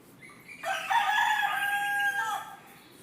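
A rooster crows once in an urban neighbourhood, a single clear, drawn-out cock-a-doodle-doo lasting about two seconds, moderately near against quiet background.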